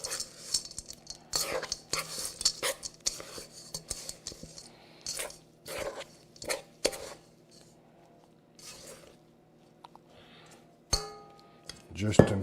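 Chocolate chip cookie dough being spooned together in a bowl, with repeated close clinks and scrapes of the spoon against the bowl and soft squishing of the dough, under occasional quiet talk.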